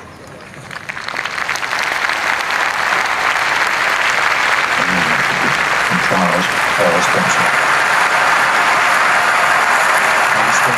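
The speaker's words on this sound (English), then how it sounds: "for the applause to start outside, and then ripple into the Abbey through the open doors" Applause from a vast crowd outside Westminster Abbey at Diana's funeral swells within the first second into a loud, sustained roar that spreads into the Abbey through its open doors, with a voice speaking briefly over it.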